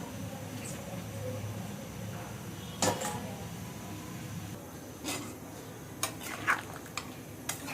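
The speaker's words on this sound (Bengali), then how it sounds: "এরপর আমি ঢাকনা দিয়ে ঢেকে দেবো।" A lid goes onto a cooking pot, with a few faint, close metallic clinks and clatters scattered over a quiet kitchen background.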